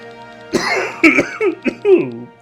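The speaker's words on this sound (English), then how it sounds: "I'm really sorry about all the coughing." A person coughs close to the microphone in a quick series of four or five harsh bursts, with rough throaty sounds between them.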